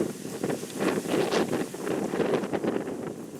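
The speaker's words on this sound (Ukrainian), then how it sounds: "сьогодні правда вітер такий" Strong wind gusts roar and buffet the microphone in uneven surges, a steady rushing noise with no voices.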